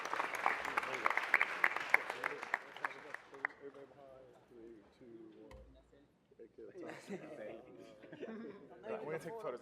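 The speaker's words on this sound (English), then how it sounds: "Let's give it one more round of applause for this amazing team," Applause at a city council meeting for a football team being honored, a dense burst of clapping from a crowd over the first few seconds, then fading into chatter and talk from the room.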